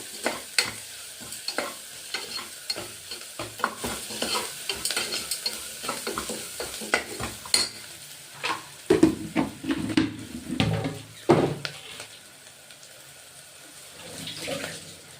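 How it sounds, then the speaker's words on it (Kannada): Onions frying in a pan for palak rice, stirred vigorously with repeated spoon scrapes and clatters over a sizzling hiss, up close with no voices. "ಈರುಳ್ಳಿ ಎಲ್ಲ ಚೆನ್ನಾಗಿ ಫ್ರೈ ಆಗಿದೆ"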